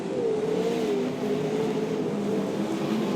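Sprint cars roar around the dirt oval at Archerfield Speedway, a loud continuous engine drone with a rising and falling pitch as the cars push through the turns.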